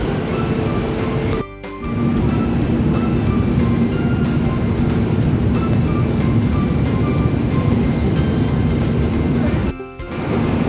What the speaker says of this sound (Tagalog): Parating na yung train.